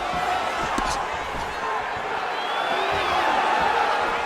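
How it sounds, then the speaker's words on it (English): UFC arena crowd in a big roar as fighters rise from the mat, a broad sustained wash of cheering with whistles, a commentator talking over it. "big pop from the crowd as they get back to their feet"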